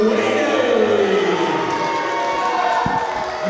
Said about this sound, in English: The crowd not really behind Larry Sweeney so much.